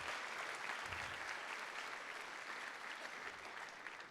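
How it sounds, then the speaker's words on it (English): An audience at a high school band concert claps steadily throughout, a dense, even wash of applause at moderate distance with no voices standing out. "give them a big round of applause for their artwork"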